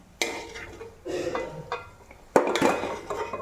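Cooked prawns are scooped from a metal pot with a utensil: a few separate scrapes and clinks of metal on metal, close and fairly loud, with a wet rattle at the end.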